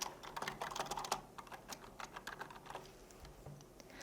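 Rapid keystrokes on a computer keyboard while a name is typed into Photoshop CC 2021, close and steady clicking with brief pauses, no talking.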